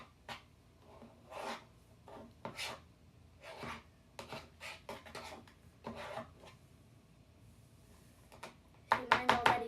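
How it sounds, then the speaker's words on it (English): Slime ingredients being stirred together in a bowl for fluffy slime, giving intermittent soft scraping and rubbing strokes, sticky and close, ending in a louder burst of squelchy mixing. "you're going to mix it all together till it gets sticky"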